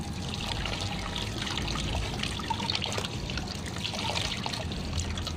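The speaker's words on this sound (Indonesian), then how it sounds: "lalu bilas menggunakan air mengalir." Hands are rinsed under running tap water during a handwashing routine, a continuous close trickle and splash of flowing water with no one talking.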